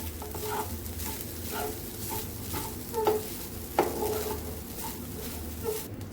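Grated fresh coconut sautéed in a pan over medium gas, a soft continuous sizzle with a steady low burner hum, broken by repeated light scrapes and taps of a stirring spoon against the pan.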